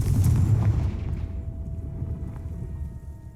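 A Confringo spell blasts a pile blocking a stairwell in Hogwarts Legacy, one loud booming explosion up front that rumbles and fades over a few seconds.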